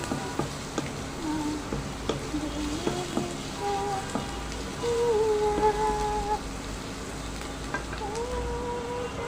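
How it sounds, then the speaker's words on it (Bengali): Onions and garlic fry in hot oil with a constant, close crackling sizzle that swells slightly midway, along with occasional soft stirring clicks and no voices. "তো পেঁয়াজ রসুনগুলো আমি কিন্তু একদম লাল লাল করে ভেজে নেব"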